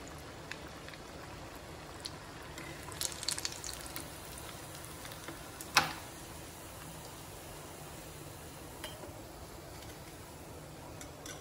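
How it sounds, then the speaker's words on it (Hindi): Cheese corn lollipops deep-frying in oil on medium heat, a soft continuous bubbling sizzle with a few brief crackles and one sharp pop midway, heard up close without voices. "तो गोल्डन कलर आने तक हमें तलना है मीडियम आंच पे"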